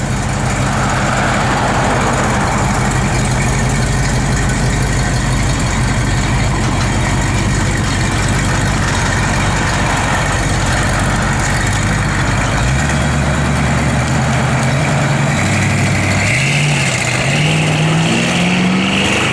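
Loud, close rumble of a 1956 Ford F100 pickup engine idling steadily, the tone shifting lower and then slightly rising toward the end.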